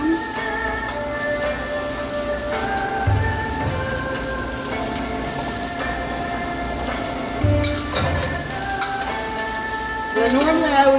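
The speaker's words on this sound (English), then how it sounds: "next I'm going to add my mushrooms" Mushrooms hitting hot oil in a wok for fried rice, producing a dense, loud sizzle with a few bursts of stirring and utensil clinks, over a steady tonal hum in the background.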